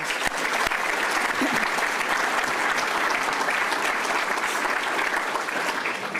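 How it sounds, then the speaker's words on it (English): A large audience at a City Club of Chicago address gives a dense, steady round of applause that stays loud and even for the whole stretch, with no voices on top. "Let's give him a round of applause."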